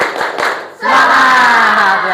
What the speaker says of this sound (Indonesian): Semangat ya, tepuk tangan.